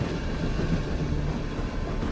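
Train cars rolling along rails with a steady, dense rumble and low mechanical drone throughout, no distinct clicks or voices.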